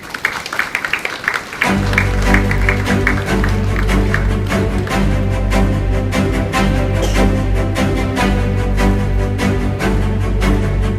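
Sustained audience applause at a satellite tracking ground station inauguration ceremony, a loud, dense wash of clapping that swells after a quieter start and holds steadily throughout, with music underneath.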